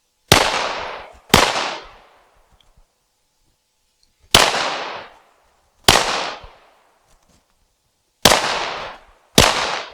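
Six sharp handgun shots ring out during a moving-and-shooting drill on a women's pistol range, coming in uneven pairs and singles with gaps between them, each crack loud and close with a short decaying tail.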